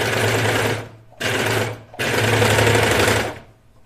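A serger runs in three steady bursts while sewing a T-shirt sleeve seam, close and loud, with short pauses between runs and a motor hum underneath.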